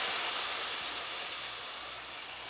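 Spice paste of raw chilies and garlic sizzling in a hot pan, a steady loud bright hiss with no breaks, like frying oil spitting continuously.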